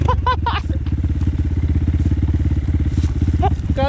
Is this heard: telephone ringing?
no